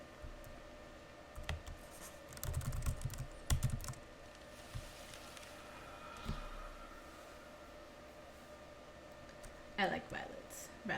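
Keys on a computer keyboard tapped in quick bursts while playing the typing game Epistory, with clusters of clicks close up and a voice talking in between.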